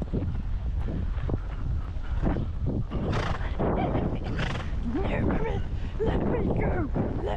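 A horse trotting on an outdoor fun ride, with steady hoofbeats and a whinny through wind noise on the microphone, while a rider talks intermittently over it.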